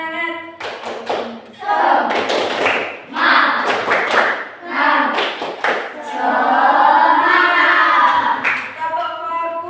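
An Indonesian classroom group does a 'tepuk semangat' spirit clap, short rhythmic bursts of patterned claps between chanted voices, the claps sharp and near, alternating with the group's speech.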